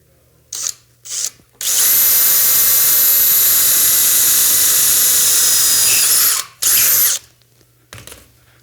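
A power drill bores a hole through a launcher chassis: two short bursts, then a long sustained high whine of several seconds, followed by two more short bursts and a faint tail.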